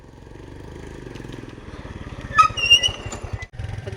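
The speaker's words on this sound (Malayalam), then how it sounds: "നമ്മൾ ഇന്ന് ബൈക്കിലാണ് പോകുന്നത്" A motorbike engine running nearby, a steady pulsing idle that builds slightly, with clattering and scraping bursts midway and a brief drop before the engine note returns.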